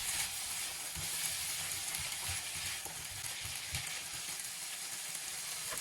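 Cauliflower, broccoli and peas fry in a pan for vegetable egg fried rice, giving a steady close sizzle with soft stirring scrapes throughout.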